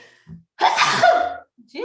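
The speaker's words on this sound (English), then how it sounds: "I feel like I gotta sneeze again" A single loud sneeze, close by, with a sharp inhale just before it and a quick breath afterward.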